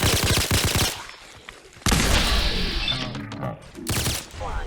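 Gunfire in the video game Fallout comes in dense, loud bursts of rapid shots that stop and start over a few seconds, with no talking during them.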